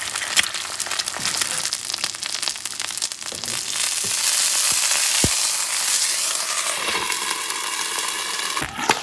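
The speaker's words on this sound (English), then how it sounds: "Everybody knows how to fry eggs" Eggs fry in a hot pan with a steady, loud crackling sizzle, sputtering and popping throughout while a utensil clinks once or twice, with no voices over it.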